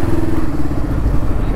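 Motorcycles of a group of bikers ride along a seaside road in Korea, a dense low engine drone that holds steady and close for a moment, with faint clatter on top.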